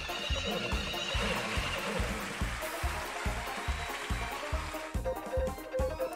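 A horse neighs in the video game Story of Seasons, over a steady, rhythmic clip-clop of hooves, with a busy ambient bed of game-like background sound throughout.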